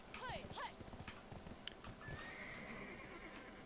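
A tier 5 horse in Black Desert Online, with hooves clip-clopping at a steady pace and two sharp whinnies near the start, all fairly quiet, with a synthetic game tone running underneath.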